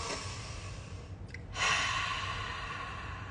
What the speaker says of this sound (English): That's a simple in through the nose, out through the mouth, alkalizing breath.